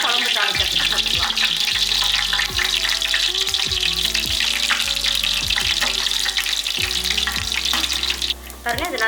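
Loud crackling sizzle of spices frying in hot oil to temper a mutton kulambu, continuous and close, with occasional clinks of a utensil stirring.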